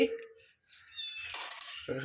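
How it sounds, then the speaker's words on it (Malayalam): A kitten meows nearby, a short drawn-out call, while a person's voice is also heard. "വിളി കേട്ടോ ആ പൂച്ച ചക്കി"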